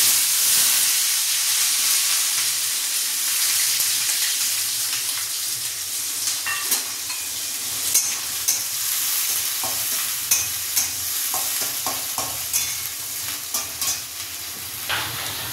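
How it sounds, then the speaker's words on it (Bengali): Onions frying in hot oil with dried red chilli, bay leaf and whole cumin, a steady close sizzle and hiss with repeated stirring scrapes growing more frequent toward the end, no voices. "শুকনো লঙ্কা, তেজপাতা ফোড়ন দিলাম, গোটা জিরে ফোড়ন দিলাম, পেঁয়াজ ভাজ দিলাম।"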